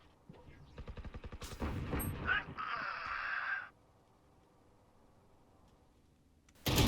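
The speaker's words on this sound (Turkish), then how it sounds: "Burada Omen'u düşürüyorum." Rapid bursts of gunfire in the Valorant video game, a quick rattling volley followed by a sustained hiss-like ability effect, then a short quiet gap before another loud hit at the end.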